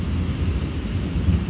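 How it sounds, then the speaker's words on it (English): Heavy summer rain pours steadily with a deep, continuous rumble of thunder rolling underneath, loud and close throughout, with no voices. "We got rain for the 1st of August."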